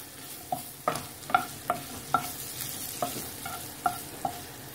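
Curry leaves and green chilies frying in hot oil in a pan for potato bhaji, a soft sizzle marked by about ten sharp spoon-stirring clinks at an uneven pace, with no talking.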